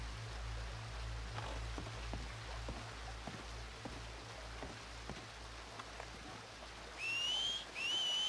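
Two rising whistle calls sound near the end in Red Dead Redemption 2, a short one then a longer one, over a steady low hum and scattered soft taps.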